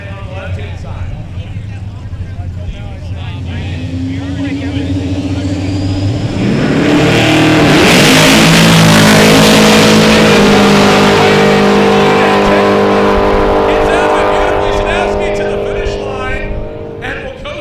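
A single-turbo LS-powered Camaro and an orange Fox Body Mustang launch on a drag strip, engines roaring up to a loud, sustained full-throttle wail that peaks mid-run and then fades as they pull away, with an announcer talking throughout.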